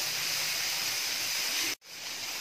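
Soya chunks sautéing in a hot pan for a Tamil-style gravy give a steady, close, loud sizzling hiss that cuts off sharply near the end, then resumes more softly.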